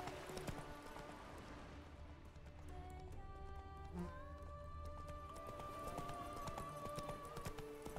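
Roach, the horse in The Witcher 3, clip-clops along at a steady hoof rhythm, close and clear, with a brief whinny and game music playing underneath.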